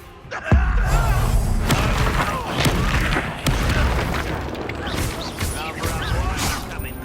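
Confringo blasting spell exploding in the game Hogwarts Legacy: a loud booming blast with crashing debris, followed by further thuds and combat clatter, with a voice speaking over the action.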